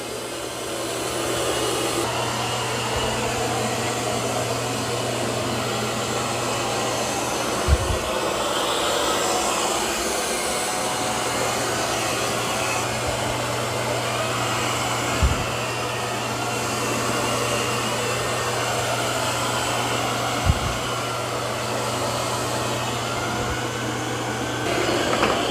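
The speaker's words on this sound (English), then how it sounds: "Now it's going to lift those mop pads automatically and start vacuuming carpet." A Eufy X10 Pro Omni robot vacuum runs across carpet with its mop pads lifted, making a loud, steady suction whir and hum that holds continuously, broken by a few brief bumps or clicks.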